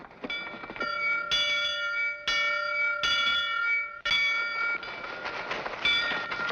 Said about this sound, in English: People usually head for the meeting house when the bell tolls, not run from it.